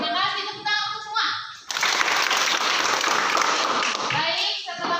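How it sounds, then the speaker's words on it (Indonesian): A classroom of children claps together in a burst of applause lasting a few seconds, loud and close, with kids' voices and a teacher talking before and after it. "Tepuk tangan untuk semua."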